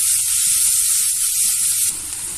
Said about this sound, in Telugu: ముందుగా మనం బాయిల్ చేసుకున్న గోరుచిక్కుడు వేసుకున్నాం. ఫ్రై చేసుకుందాం.